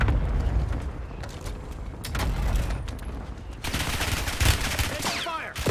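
Rapid automatic gunfire in Call of Duty multiplayer, with bursts of machine-gun and rifle shots crackling continuously through a busy battlefield mix, loudest near the end.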